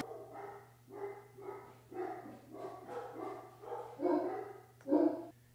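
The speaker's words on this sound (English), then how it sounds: "I don't know if you can hear those dogs barking" Several Great Danes bark indoors in a house, a run of deep, repeated barks in uneven bursts, growing louder toward the end over a steady low hum.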